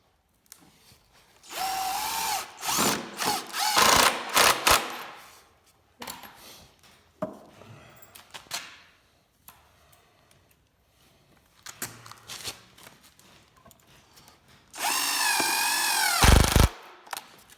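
A power drill drives long screws into wooden pieces while a speed sled is assembled, in repeated whirring bursts of a few seconds each with short gaps, close and loud, the last burst the longest.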